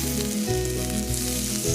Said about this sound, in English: If you don't hear a sizzle as you add the steaks